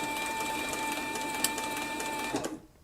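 A heavy-duty leather sewing machine runs flat out while stitching a dog collar, a loud, fast, steady mechanical whir with a sharp click midway, stopping abruptly near the end.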